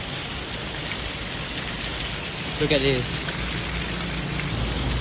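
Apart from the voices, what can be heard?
rain falling on the street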